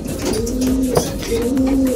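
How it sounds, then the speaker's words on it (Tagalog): A racing pigeon coos nearby in soft, low, drawn-out calls, repeated a few times against a light background of other noise. "Pagkagandang ibon"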